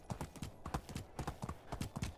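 A horse's hooves clip-clop in a quick, even trotting rhythm in the video game Medieval Dynasty, close and fairly soft, with no one speaking.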